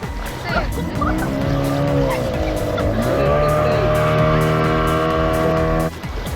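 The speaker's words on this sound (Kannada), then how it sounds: "ಬನಾನಾ ರೈಡ್ ಇದು ಸ್ಪೀಡ್ ಬೋಟಿಂಗ್ ಆಗಿದೆ" A speed boat pulls a banana ride off Kudle beach in Gokarna. Its engine gives a loud, steady high-revving whine that rises in pitch, and voices talk beneath it.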